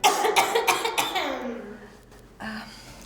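A person coughs several times in quick succession, then the sound tails off into a trailing breath before one more short burst. It is close and fairly loud, with no clear talk.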